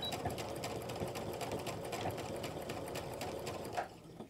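A sewing machine runs steadily, stitching the seam of fabric pull-on pants with a continuous fast mechanical whir, close and loud, slowing to a stop near the end.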